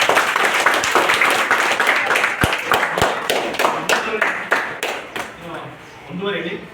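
Scattered applause at a government high school function in Buranapur, Vijayapura: sharp separate claps from a gathering that thin out and fade toward the end, with voices heard in the room.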